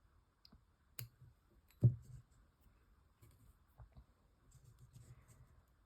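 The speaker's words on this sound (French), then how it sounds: "Je vais déjà couper dans un premier temps le fil qui dépasse." Scissors snipping excess tatting thread on a small handmade earring, a few crisp close clicks and soft rustles in a quiet room.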